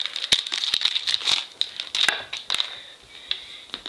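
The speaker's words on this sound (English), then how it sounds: "I'll unwrap the extension." Plastic packaging crinkling as the extension cord of a new Apple MacBook charger is unwrapped, close crackles and rustles in quick irregular bursts with a short tearing sound.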